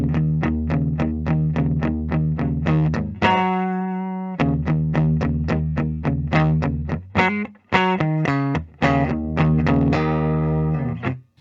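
A 2022 Gibson 1959 Reissue electric guitar chugs through heavy distortion, repeating palm-muted chords in a tight rhythm, broken by sustained ringing chords and short pauses.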